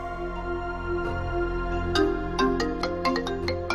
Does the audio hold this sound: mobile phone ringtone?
yes